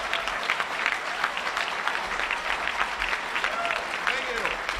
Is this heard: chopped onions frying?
no